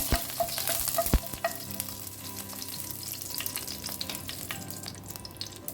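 Curry leaves sizzle and crackle in hot oil while being stirred for a Goan green peas ros, a steady frying hiss with occasional spoon scrapes and clinks, close by, with no talking.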